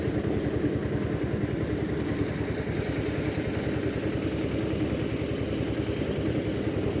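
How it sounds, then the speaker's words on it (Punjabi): A tractor-driven generator at a timber market runs continuously at a constant idle, a steady rumbling engine, loud and close, with a throbbing low pulse and no voices. "ਟਰੈਕਟਰ ਨਾਲ ਜਨਰੇਟਰ ਚੱਲਦਾ ਤੇ ਜਨਰੇਟਰ ਨਾਲ ਜਿਹੜੀ ਹੈਗੀ ਆ ਮਸ਼ੀਨ ਚੱਲਦੀ ਆ"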